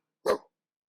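A single short dog bark from an animated cartoon, clean and isolated against silence.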